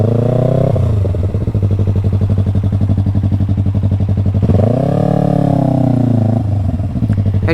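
A motorcycle picking its way over an obstacle at night, engine chugging in a rapid, loud pulse with repeated clutch-controlled revs that rise and fall in bursts, close to the microphone and free of talk.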